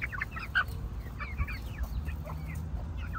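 Calm Brahma chickens cluck softly in a coop, a series of short, close clucks and murmurs over a low background rumble.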